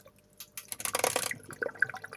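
Water gurgles and drips as a pump fills an aquarium tube in a home setup for culturing worms and daphnia, with splashy bursts in the middle and faint trickling around them.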